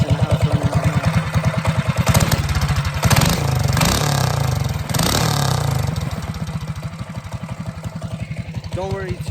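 A mini bike's small engine, freshly built and broken in, runs close by with a rapid, slightly uneven putter, briefly revving up in the middle before settling back to a steady idle.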